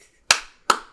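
Two sharp, close finger snaps spaced about 0.4 seconds apart, each a crisp crack with a short decay in an otherwise quiet room.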